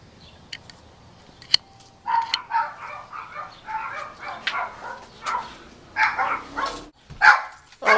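A dog barks and yips repeatedly near a backyard swimming pool, a run of sharp, close barks with some whimpering in between, loud and irregular over several seconds.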